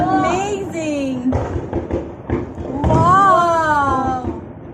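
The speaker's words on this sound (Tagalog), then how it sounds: "Look at that beautiful fireworks." Fireworks bursting over Singapore at the National Day celebration, heard as scattered thuds and pops from some distance while excited voices, a child's among them, exclaim over them close by.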